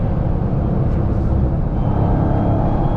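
A 2023 Dodge Charger Hellcat Jailbreak on the move, its engine giving a steady, loud, close drone with a faint high whine over heavy road rumble, with no talking.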